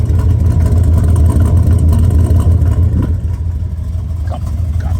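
A 1970 Chevrolet Chevelle V8 runs loud and close with a deep, steady low rumble. The engine holds a constant throaty idle throughout with slight swells in level and no talk over it.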